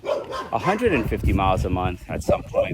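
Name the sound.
dogs barking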